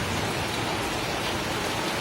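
Steady rain pours down on an open outdoor spot, a dense, even hiss of drops filling the whole moment with no voices.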